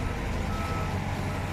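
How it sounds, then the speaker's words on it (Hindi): A container depot truck arrives with a loud, steady rumble of engine and road noise. The dense, continuous roar fills the whole moment without pause. "देखो ये आ गई, ये आ गई ना गाड़ी। ये वाली गाड़ी दोस्तों इसी कंटेनर डिपो की है शायद"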